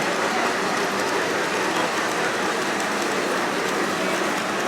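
An O-gauge-style model train runs on a Christmas layout at a fire company hall, a continuous dense whirring rumble of wheels on tubular track that holds steady throughout.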